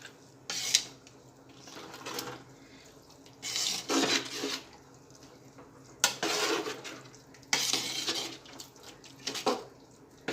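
A spoon stirs and mixes dungaliyu, a Mehsana-style onion dish, in a pan: several separate bursts of scraping and clinking at close range, with quiet gaps between strokes.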